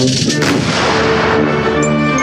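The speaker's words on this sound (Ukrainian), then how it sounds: "традиційні постріли у виконанні військових" A loud, booming ceremonial rifle volley fired by soldiers at a cemetery memorial rings out and rolls away in a long echo, with no talking.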